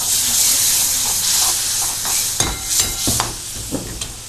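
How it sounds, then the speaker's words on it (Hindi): Spice paste for a Nimar-style gatte ki sabzi frying in a pan with a splash of water, a steady close hiss and sizzle with scraping stirs and clinks of a spoon against the pan. "मसाले को इसको थोड़ा सा फ्राई करते जाएंगे"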